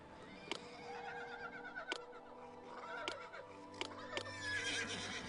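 Horses whinny in the Zeus & Poseidon city-building game, several bright neighs rising over a steady low game soundscape with sharp clicks scattered between them.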